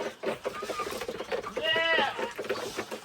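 Goats bleat loudly and repeatedly, one long wavering cry standing out among shorter calls, close by.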